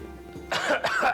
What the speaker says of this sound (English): I'm just coughing very loudly